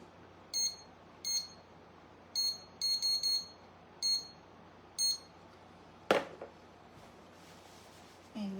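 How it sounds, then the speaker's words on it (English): A kitchen timer is set to 5 minutes while holiday pies are being made, giving a series of short, clear electronic beeps in separate and clustered presses, followed by a single sharp clunk in an otherwise quiet kitchen. "I'm going to set my timer on 5 minutes."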